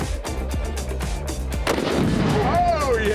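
A bolt-action rifle fitted with a muzzle brake fires once, a loud, sharp blast that rolls into a booming outdoor echo and decaying rumble.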